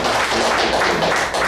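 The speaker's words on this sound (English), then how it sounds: "a round of applause for Toastmaster Mohan" A Toastmasters meeting audience gives a round of applause for the speakers, a close, loud wash of clapping hands with no talk over it.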